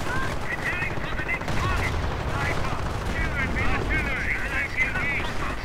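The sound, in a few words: artillery fire in a video game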